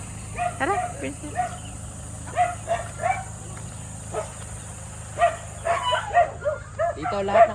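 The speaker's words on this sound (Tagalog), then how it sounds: "Dito, lahat ng aso nakakulong." Several penned dogs at a rural home in Abra bark in short, scattered bursts, some close and some farther off, over a low steady hum.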